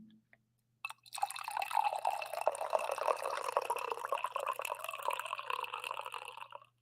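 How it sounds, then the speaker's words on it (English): Coffee pours steadily into a cup for about six seconds, a close, continuous liquid splash and trickle heard alone without talk. "I do think we need a proper coffee pour"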